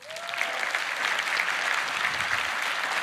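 A keynote crowd in a large hall bursts into dense, continuous applause that holds at an even, loud level for several seconds.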